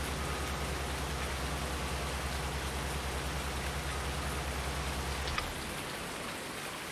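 Continuous rain pours in Farming Simulator 19, an even broadband hiss with no voices, dropping away abruptly near the end.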